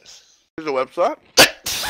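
A single short, sharp sneeze bursts out between bits of casual talk, close and loud, with voices before and after it.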